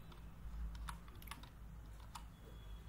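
Keys clacking on a computer keyboard as a cross-site scripting script payload is typed, a quiet, irregular run of soft clicks with a few sharper taps, close and alone over a low room hum.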